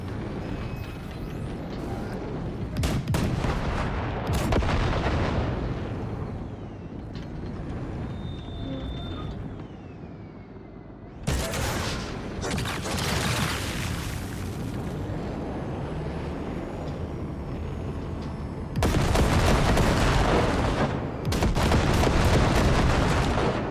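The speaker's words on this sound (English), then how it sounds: "Just keep shooting at those rust bugs." Rapid bursts of gunfire from Cyberpunk 2077, loud and dense, come in several long automatic volleys separated by quieter stretches of rumbling engine and game ambience, with speech underneath at times.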